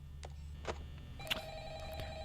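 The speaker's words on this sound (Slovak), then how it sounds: "telefón zvoní" A telephone rings in the Five Nights at Freddy's game: short electronic tones over a steady low hum, moderately loud and without talk.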